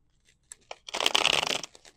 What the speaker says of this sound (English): now I'm just shuffling willy-nilly